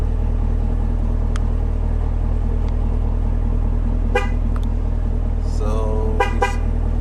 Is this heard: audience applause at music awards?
no